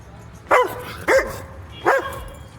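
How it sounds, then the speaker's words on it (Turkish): Three sharp barks from an aggressive dog, fairly close, spaced about half a second apart over a quiet outdoor background in Tbilisi, Georgia. "Köpek saldırıyordu"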